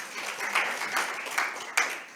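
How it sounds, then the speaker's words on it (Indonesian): Brief applause from a church congregation at a Sunday morning service, a soft patter of clapping with a few louder bursts, fairly distant and short. "tepuk tangan buat kita semua"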